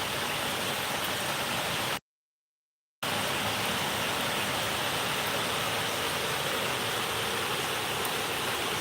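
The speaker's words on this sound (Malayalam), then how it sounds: "ഇവിടെ നല്ല മഴയാണ് കേട്ടോ" Heavy monsoon rain pours down in a steady, dense hiss that fills the air, loud and unbroken apart from a one-second gap of total silence, with no voices over it.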